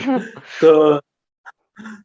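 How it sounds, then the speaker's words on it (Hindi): A person clears their throat with a short rough cough-like sound, followed by brief quiet vocal noises. "मुझे थोड़ा खांसी भी है"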